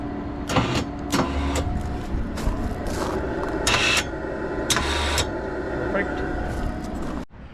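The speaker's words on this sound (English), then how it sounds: "Let's also test the winch." Electric winch on a 2007 Arctic Cat 700 Diesel ATV, whining in repeated short bursts over the steady clatter of the idling diesel engine, close by.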